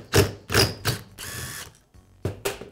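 Screw being backed out of a Milwaukee reciprocating saw crankshaft with a screwdriver wedged between the counterweight and connecting rod: several close, sharp ratcheting and grinding bursts separated by short pauses, with no talk.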